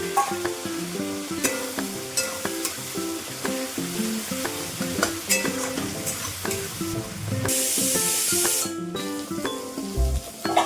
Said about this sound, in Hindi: और थोड़ी देर अच्छे से मसाले को भूनने दे रहे हैं।